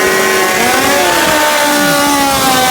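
A Kawasaki KZ-powered Pro Mod drag bike engine revs hard and loud, with rising and falling high-pitched engine tones over steady roar.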